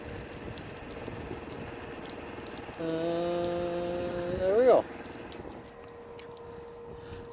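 Pink antifreeze sprays and hisses from a travel trailer faucet during winterizing, a soft watery rush joined midway by a steady pump whine that rises briefly before cutting off, with a brief spoken remark.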